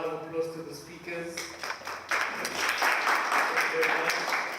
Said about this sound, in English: And then also another round of applause to the speakers.